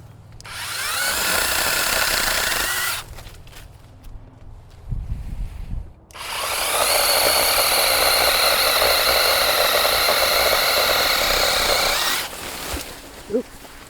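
A 10-inch cordless chainsaw with an extendable pruner attachment cuts through the limbs of a tree in two long, loud bursts of steady whining motor noise, separated by a short quieter pause with a few knocks and rustles.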